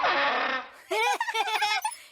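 A turbine butterfly, an imaginary cartoon creature-instrument from a fairy kingdom, makes a loud whooshing, buzzy drone. It gives way to a run of quick warbling, yelping squeaks that rise and fall, heard close and on its own.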